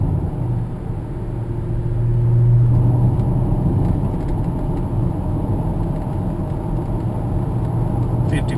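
Volvo XC70 engine accelerating at half throttle, heard from inside the car as a loud steady low rumble that swells briefly and then holds at an even drone.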